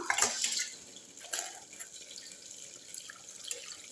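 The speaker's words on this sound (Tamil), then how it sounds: "இப்போது இந்த புளி தண்ணியை தூக்கி இதில் ஊற்றிக்கலாம்" Tamarind water poured into a pot for a village-style brinjal and fish curry, a steady close liquid splash and trickle with a louder gush at the start and lighter drips and splashes after, no talking.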